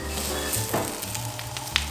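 Bell peppers frying in a pan over a high flame, with salt just added: a steady, close sizzle with a low hum beneath and a few faint stirring clicks.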